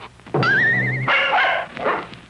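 A dog gives a long, rising whine that breaks into a couple of sharp barks, close and loud.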